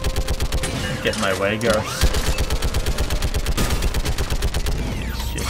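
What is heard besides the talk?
turret gunfire from the video game Mass Effect 3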